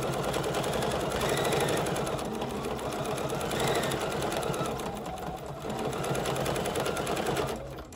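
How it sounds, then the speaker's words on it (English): Bernina 770 sewing machine stitching steadily with its stitch regulator engaged, a fast continuous mechanical needle rhythm that holds loud and even throughout. "On BSR1, the machine is going."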